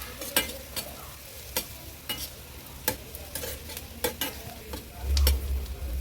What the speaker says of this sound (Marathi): हळद ॲड केल्यावर कांदा छान परतून घ्यायचा आहे।